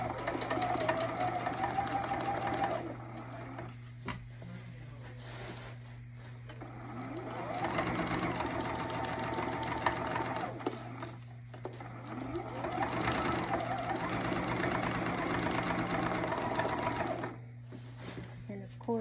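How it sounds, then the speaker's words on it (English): A sewing machine stitches a denim jacket in steady bursts of fast, even whirring, pausing briefly between runs, with a constant low hum underneath throughout. "I just keep smoothing it and pulling the bulk down as I sew."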